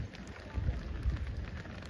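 Heavy monsoon rain pours steadily near the swollen Krishna and Koyna rivers at Karad, Satara district, a dense continuous hiss with low rumbling gusts and no voices.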